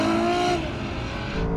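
A Ferrari, a Lamborghini and an Aston Martin launch side by side in a drag race, with a loud, close engine roar that rises and then fades within a couple of seconds.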